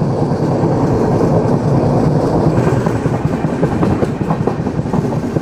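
Veer Bhumi Express passenger train running on a curved mountain track, with a loud steady rumble and rhythmic clickety-clack of the wheels heard close from on board.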